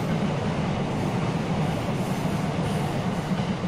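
A Sotetsu 12000 series train rumbles steadily into the JR Saikyo Line platform at Shibuya Station, a loud continuous low roar of wheels and motors with no voices.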